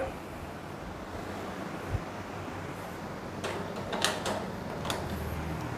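A MEDIA VPH-09C 9000 BTU portable air conditioner runs at a fan setting with a 22-degree target, giving a steady, fairly loud broadband whoosh like a household fan, with a few brief clicks and rattles near the end.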